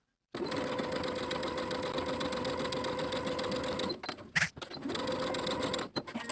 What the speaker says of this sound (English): Sew as pinned with a 3/8 inch seam allowance, leaving those dotted short edges open for now.